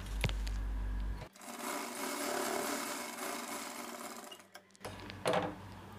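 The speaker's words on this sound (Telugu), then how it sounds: "సేమ్ ఇదే రకంగా ఇటువైపు కూడా స్టిచ్చింగ్ చేసేసుకోవాలి." Sewing machine stitching the front part of a blouse, shaping a round curve: a steady mechanical whirr runs for several seconds between brief stops and start-ups, close and fairly loud with no talk.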